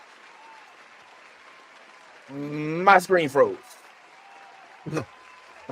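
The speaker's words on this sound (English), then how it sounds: "I can't stop the applause." An applause sound effect runs steadily at a low level beneath a voice, which briefly speaks over it partway through, and continues after he stops.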